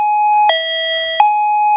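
Kerui M525 wireless plug-in doorbell chime playing one of its melodies: a steady electronic tone that steps to a new pitch twice, with short bright onsets at each change, loud and close with no talking.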